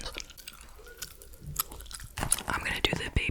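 Gum chewed close to the mic with moist smacks and clicks, followed by louder crunchy, squishy handling of slime being unboxed, intimate and quiet with faint whispery breath.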